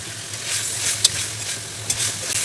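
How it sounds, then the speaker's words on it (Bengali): Fish is added to a pan holding a little water and oil, producing a steady, close sizzle with a couple of small clinks from the pan. "আমি একটু পানি দিয়ে তারপরেই মাছগুলো দিলাম"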